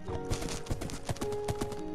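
A ridden horse trots in a survival video game, its hooves beating in a steady, moderately paced rhythm over a busy background of music and ambience.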